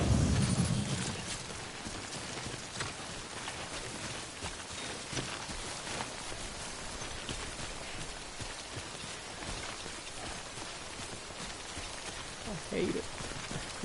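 Steady rainfall in the video game Death Stranding, a dense, even hiss of drops that runs unbroken throughout.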